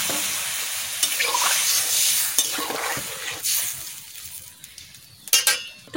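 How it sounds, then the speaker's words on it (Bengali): Water hits a pan of frying vegetables and mixed chillies, and a loud, steady sizzling hiss bursts up at close range. It fades and then flares again in short bursts, with no talking. "ভাজা হয়ে গেছে, আমি এখন জল ঢেলে দিচ্ছি।"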